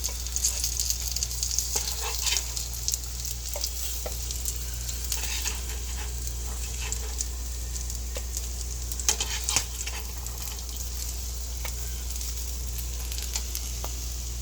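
Fish frying in hot oil for a Bengali fish fry gives a steady, close sizzle with scattered crackles and pops throughout, with no speech.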